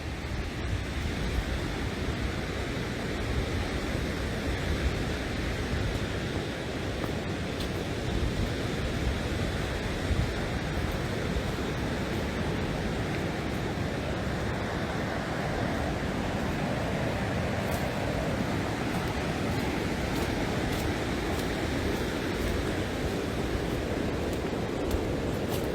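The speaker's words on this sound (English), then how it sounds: "still have quite a few birds and the sounds of the ocean and stuff." Ocean waves wash steadily against the Barbados shore near Congor Bay, a continuous, moderately loud surf rush with wind noise and no talking.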